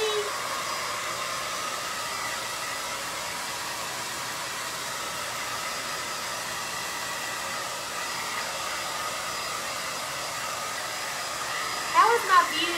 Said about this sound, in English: now I'm going to just blow dry it really quick